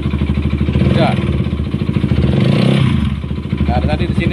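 Honda CBR150 motorcycle engine revved up close, a loud pulsing mechanical chatter with swelling throttle blips over a rough running drone.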